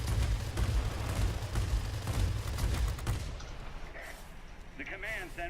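Guns of a Lockheed P-38F Lightning firing in the World of Warplanes video game, a dense, loud rattling barrage lasting about three seconds before fading into engine drone and game effects.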